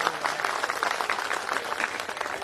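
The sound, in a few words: audience applause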